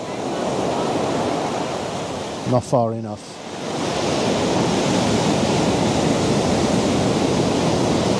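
Ocean surf rolls onto a rocky shore at sunrise as a steady broadband wash that persists throughout, briefly interrupted by a short spoken remark near the middle before the surge returns loud and continuous.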